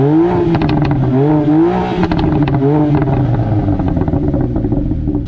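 A BMW M4 with a flap exhaust revs in place, rising and falling through several loud, close throttle blips that then settle into a steady, rumbling idle with no talking.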